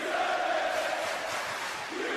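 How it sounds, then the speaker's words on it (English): Arena crowd at a WWE wrestling event in Italy roars and cheers loudly and steadily as pyrotechnics go off, a dense wall of voices with no clear individual speech. "Pyro going off. Crowd cheering."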